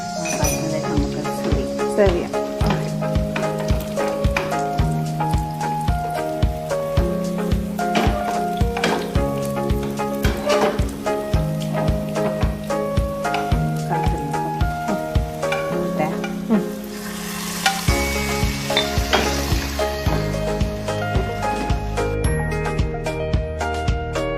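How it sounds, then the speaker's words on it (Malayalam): Raisins fry in a pan for jackfruit payasam, a bright sizzle with rhythmic clinks and scrapes of a stirring spoon, all played under loud background music. "ഈ കിസ്മിസും കൂടി വറുത്ത് അതും കൂടി ഇട്ട് കഴിഞ്ഞാൽ പായസം റെഡി"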